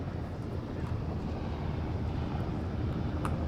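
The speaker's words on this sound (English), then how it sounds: "There's the helicopter." Helicopter arriving at dusk in the video game Firewatch, a low, rumbling engine drone that holds steady throughout, moderately loud with a faint wind-like wash over it.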